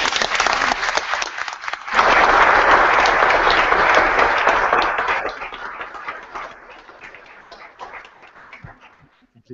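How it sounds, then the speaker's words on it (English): Sustained audience applause in a formal House of Lords gathering, a dense burst of many hands that swells loudly, then gradually thins and fades toward the end. "Would we give him a round of applause?"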